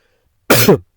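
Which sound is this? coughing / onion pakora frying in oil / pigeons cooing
coughing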